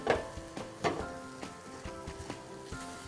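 Pears simmering in caramel sauce in a pan give off a soft, steady sizzle with a few louder bubbling pops and faint stirring clicks, heard alone at close range.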